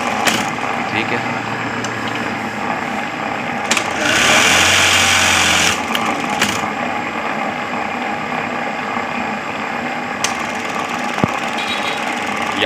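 A Juki buttonhole sewing machine runs in short bursts of fast mechanical rattling and clicking, with a louder whirring stretch in the middle, close by amid quiet background and some talking.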